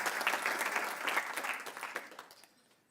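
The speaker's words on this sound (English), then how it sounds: "can we please give Mr. Armitage a big round of applause" Audience applause at a stakeholder report launch event, a steady burst of clapping from a crowd that swells and then fades out over a few seconds.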